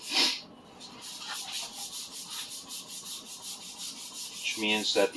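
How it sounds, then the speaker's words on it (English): Steady back-and-forth rubbing scrubs rust from the exposed full steel tang of a Minamoto sujihiki kitchen knife with wooden handle scales, a close, continuous rasping rhythm with a few louder strokes near the end. "let's get the rust off the tang"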